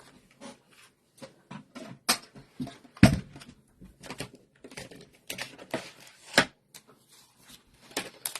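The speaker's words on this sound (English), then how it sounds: "let's die cut this one real quick." A die-cut machine cuts a card, producing sparse soft clicks and mechanical taps with one sharper thud partway through, fairly quiet and close.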